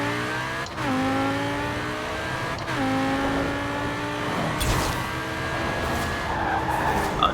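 Cars in a Forza Horizon 4 roll race accelerate hard through repeated gear shifts, engines rising and dropping in pitch twice, followed by tire noise and a skid-like screech near the end.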